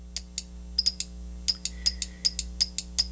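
Sharp electrical snaps from an ESD simulator gun crackle irregularly, about a dozen short discharges over a steady electronic hum, each paired with a faint high beep as the trigger is pulled.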